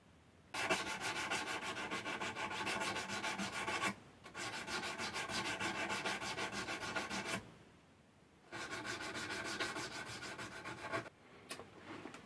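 A Dremel rotary tool polishes the frets of an Aria AW20 guitar with Autosol, giving a steady whirring, rubbing buzz in three long, fairly loud bursts separated by short pauses.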